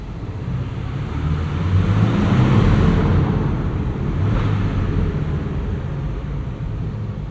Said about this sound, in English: The distinct whine of just kind of the overall chassis harmonics of this Porsche